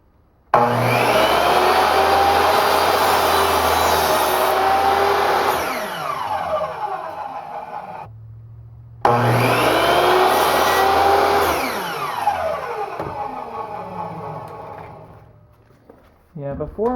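A miter saw runs in a workshop in two long whining bursts, each holding at full speed for several seconds and then winding down, with a short gap of silence between them.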